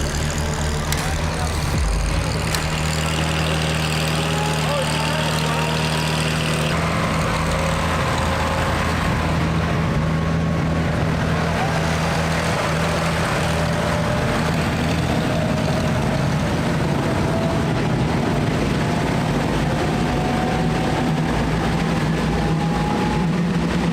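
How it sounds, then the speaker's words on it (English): Fighter jet engine spooling up after its APU start, a loud, continuous roar with rising whining tones that climb steadily, dense and close throughout. "Never in my wildest imagination did I ever think that that airplane would start up so easy."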